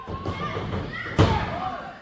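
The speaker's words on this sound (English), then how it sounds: "And a Swanton bomb, speaking of the Hardys." During a wrestling match, a wrestler's body lands on the mat in a Swanton bomb, making a single sharp thud midway through, with excited commentary talking over the action.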